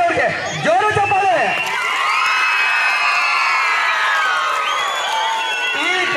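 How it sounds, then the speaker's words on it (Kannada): A crowd of children at a school cluster event cheers and whoops loudly, with high shouting voices rising and falling over a continuous dense roar; scattered clapping is faint. "ಜೋರು ಚಪ್ಪಾಳೆ"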